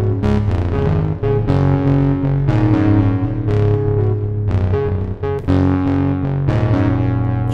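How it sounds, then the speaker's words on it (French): A Native Instruments Reaktor 5 FM4 synth is driven by a step sequencer through reverb and delay, playing a loud, steady run of bright, slightly distorted repeating notes with echoing tails and no talking. "la lecture de mon synthé FM4 avec l'effet de reverb ici et mon step sequencer SQP en lecture, mon délai bien sûr."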